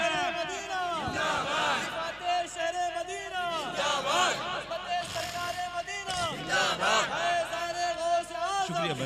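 A gathered crowd at a religious speech answers the takbir call with loud, massed chanting that rises and falls in repeated waves, voices overlapping close and reverberant.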